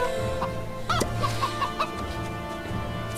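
A chicken clucks in a video game, sounding a short run of close, rhythmic clucks near the middle over a steady hum of game background sound.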